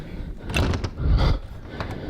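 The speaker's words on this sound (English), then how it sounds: "I wonder if the door's open." A locked door at a school gym in an abandoned desert town is pushed and pulled without opening, giving several muffled rattling bumps and a low shove among outdoor background noise.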